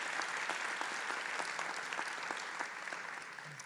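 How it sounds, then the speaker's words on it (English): An audience breaks into sustained applause during a speech by President Biden about the student debt relief program, a dense wash of clapping that holds steady and fades slightly at the end. "That's worth applauding."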